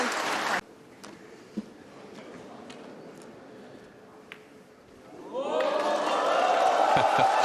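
After a brief loud burst and a quiet stretch, the Wuhan Open snooker crowd breaks into broad, sustained applause for a shot by Xiao Guodong in the final, with a commentator's voice over it.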